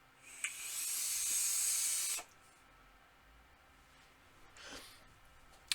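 An Asvape AIM-9 RDA atomizer pulls air at 85 watts, giving a loud, smooth, breathy hiss for about two seconds, then a fainter second draw near the end.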